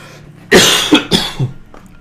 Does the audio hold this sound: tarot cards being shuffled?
no